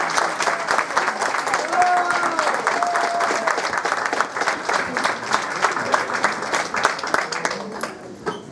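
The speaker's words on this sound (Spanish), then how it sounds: "Con un fuerte aplauso, por favor." Strong, sustained applause from an audience at a Central American independence celebration in Queens, New York, steady dense clapping throughout with some crowd voices mixed in.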